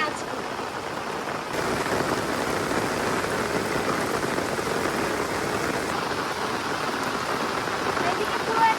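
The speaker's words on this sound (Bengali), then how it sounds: "বর্ষায় এবছর সেরা বৃষ্টি হচ্ছে আজকে" A steady, loud downpour of monsoon rain drums on the surfaces around a village courtyard, a thick continuous wash of falling water that barely changes from start to finish.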